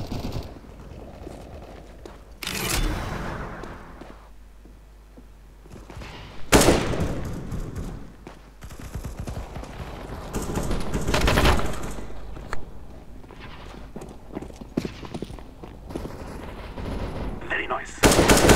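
Rapid bursts of automatic gunfire ring out in a Counter-Strike: Global Offensive match, loud and close, with stretches of quieter game ambience between the volleys.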